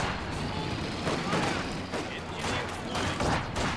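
Dense, continuous gunfire and explosions from a World War II battle in Company of Heroes 2, with overlapping bursts and booms at steady loudness while a voice talks over the din.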